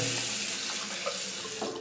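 A cold-water tap runs in a steady, close splashing stream as a shaving stick, an alum block, is held under it, with no talking over the flow.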